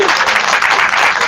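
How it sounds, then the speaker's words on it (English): Audience applause rings out at a panel event as a head of MGM casting is welcomed, a dense, steady clapping from a nearby crowd over the short stretch. "Give that a thunderous round of applause"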